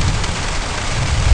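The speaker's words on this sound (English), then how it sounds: "thunder and rain. It's been raining since 11 o'clock last night." Steady rain falls close by in a dense, even wash with a low rumble underneath, likely thunder, continuing for about a second and a half with no voices.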